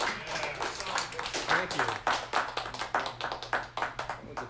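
Audience members at a live music sound check in a whisky vault clap in scattered, uneven bursts, with someone speaking briefly over the clapping.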